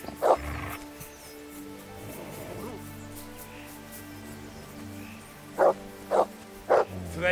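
A dog in the medieval role-playing game Kingdom Come: Deliverance gives a bark early on, then three sharp barks in quick succession near the end, over a low game soundscape.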